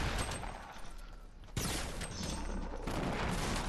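Rifle fire in a Fortnite battle royale match comes as a dense, continuous barrage of shots, with one sharp crack standing out midway through the steady roar.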